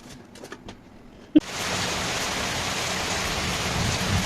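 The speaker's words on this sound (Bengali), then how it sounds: "কত বৃষ্টি হচ্ছে দেখছো?" Heavy rain starts suddenly after a sharp knock, then pours as a loud, dense, steady hiss on surfaces, with no talking.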